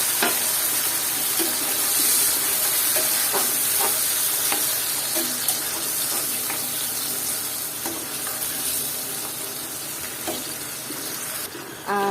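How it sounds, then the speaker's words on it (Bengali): Steady, loud sizzling in a frying pan of prawns and onions as a little water is added, with occasional scraping from stirring throughout. "আমি এখানে অল্প একটু পরিমাণ পানি দিয়ে নিলাম"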